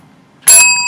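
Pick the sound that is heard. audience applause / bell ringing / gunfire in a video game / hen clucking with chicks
bell ringing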